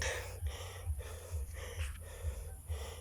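A hiker on a steep, rocky mountain trail panting out of breath, with repeated heavy, rhythmic gasping breaths roughly every half second, close and fairly loud.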